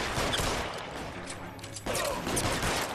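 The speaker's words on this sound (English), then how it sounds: "You're really gonna start shooting at me." Gunfire during a shootout in L.A. Noire: a steady crackle of shots and mechanical clatter that stays fairly loud and continuous, with a brief dip midway.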